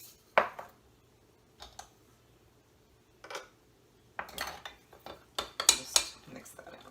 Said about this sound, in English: Just mix that in real quick.